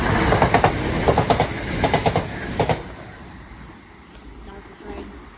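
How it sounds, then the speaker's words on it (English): A Southern passenger train speeds through a station, its wheels clattering in a rapid rhythmic clickety-clack up close for about three seconds before the roar fades quickly into quieter rumble. "That was the train."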